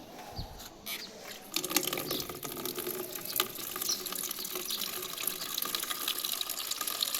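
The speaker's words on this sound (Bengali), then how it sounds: "হয়েছে, পানি পড়ছে।" Water pours onto potted tomato and chili plants in a rooftop garden, a steady splashing stream that starts after a few soft knocks and continues evenly.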